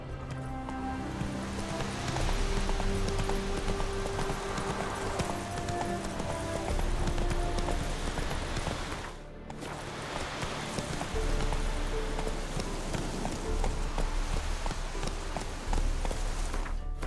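A horse gallops at a steady run in The Witcher 3, its hoofbeats a continuous rapid clip-clop close up and loud for the whole stretch, with a brief dip in the middle.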